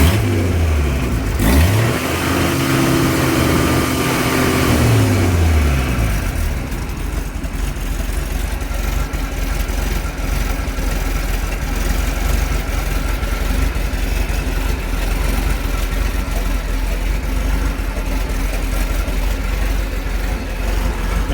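1981 Ford Bronco with a 300 inline-6 and straight pipe exhaust, a rev rising and falling early on, then settling into a steady rumbling idle that continues for a long stretch, close and loud in an enclosed space, with no talking.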